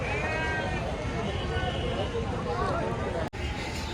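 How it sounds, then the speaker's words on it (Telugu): Sheep at the Jiyaguda goat market in Hyderabad bleat repeatedly, several wavering cries close by, while people talk and a crowd murmurs around them. "ఇదే లైన్లో గొర్రెలు ఉంటాయి రైట్ సైడ్లో మొత్తం."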